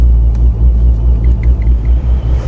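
A 426 engine with an aggressive cam idles roughly and unevenly, a loud, close, continuous low rumble whose level surges and dips with no voices over it.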